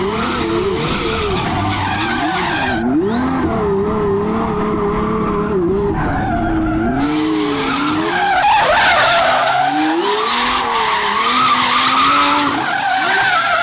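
Tires of a twin turbo Ferrari F12 squeal in long wavering skids, loud and continuous with engine roar beneath, swelling in intensity toward the end.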